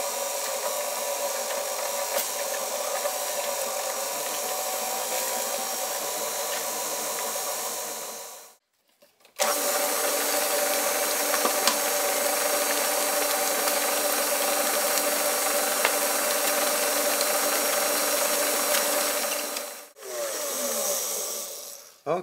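An electric mixer beats fruitcake batter as eggs go in, a steady close whirring hum with gear-like tones. It cuts out briefly, restarts, then pauses again and resumes near the end, with no voices.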